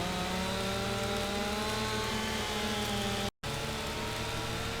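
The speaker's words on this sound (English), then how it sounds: "And the chainsaw is finally through." A chainsaw cutting through a big tree in Farming Simulator 25, a loud, steady, droning engine whine that holds constant, broken by a brief cut to silence before resuming.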